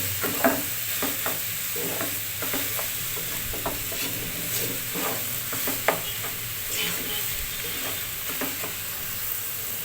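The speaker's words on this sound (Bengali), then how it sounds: "ভালো করে নেড়ে চেড়ে মিশিয়ে নিয়েছি" Raw jackfruit with salt, turmeric and chilli powder being stirred in hot oil, a continuous sizzle with repeated scraping and spoon knocks against the pan, close up.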